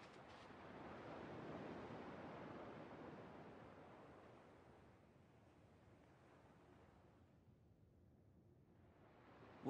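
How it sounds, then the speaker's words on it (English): Ocean waves in Kingdom Hearts 2 Final Mix wash in a broad, steady roar that swells early, then gradually eases and softens; no voices present. "At least the waves sound the same."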